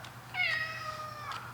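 One cat gives a single, clear, drawn-out meow at close range, with a brief, smaller chirp shortly after, all over a quiet room's low hum.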